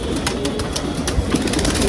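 Low, repeated cooing from a Kalduma pigeon sits inside constant hissing ambient noise, the soft calls recurring through the brief moment without any talk.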